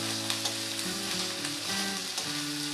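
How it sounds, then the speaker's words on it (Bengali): Ginger-garlic paste fries in a pan with a steady, even sizzle, and a faint tonal hum runs underneath. "দিয়ে আদা রসুনটা ভালো করে একটু ভেজে নেব"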